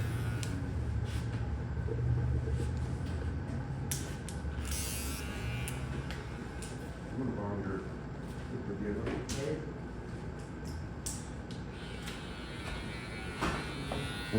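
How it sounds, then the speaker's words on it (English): Electric hair clippers buzz near a barber detailing a taper fade, giving a steady close hum with scattered clicks and brief rises. Talk runs over parts of it. "And these are my clippers"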